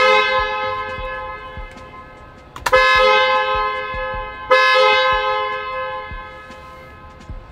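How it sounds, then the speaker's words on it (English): A Tesla Model 3 car horn sounds twice during a yoke steering wheel install, each blast loud and sharp then fading slowly, with small clicks and handling noises between. "you are gonna hear the horn"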